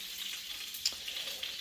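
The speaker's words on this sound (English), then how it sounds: "So sizzling away behind." Sausages sizzle in a frying pan as part of a steak, eggs and beans cook-up, a steady, even hiss with a single sharp pop, close and without talk.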